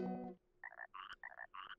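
A frog in the video game Chibi-Robo gives a series of five buzzy, evenly spaced croaks after a brief tonal game sound, close and clear against a quiet background.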